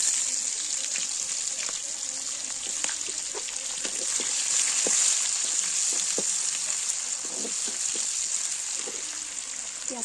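Onions sizzle steadily in hot mustard oil in a wok, a continuous close, bright frying hiss with scattered small pops and crackles throughout.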